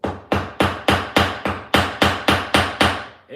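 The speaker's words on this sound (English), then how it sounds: "guess we can get hammering" Sharp hammer blows drive frets into an ebony guitar neck, about eleven evenly spaced strikes, each a loud close crack with a short ringing decay, heard alone.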